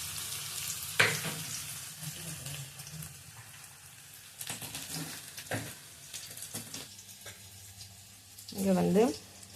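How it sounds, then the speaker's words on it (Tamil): Onions, chilies and tomatoes sizzle and crackle steadily in a hot pan for fish curry, with occasional clinks and stirring noises and brief bursts of louder frying. "மிளகாய், தக்காளி போட்டு வதக்கணும்."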